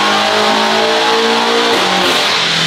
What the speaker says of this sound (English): Never quiet around here when the dyno is running with Alex on it.